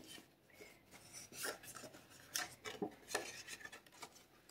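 Scoring blade drawn across cardstock paper at a craft table, heard as several short close scraping strokes with soft rasping rubs between them, no talking.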